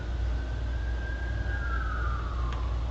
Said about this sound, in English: Carbide is located right next to a hospital, so you get a lot of sirens.